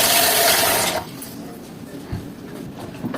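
Cold water gushes loudly into a water container for about a second, then cuts off, leaving quieter room sounds with a few small knocks and rustles.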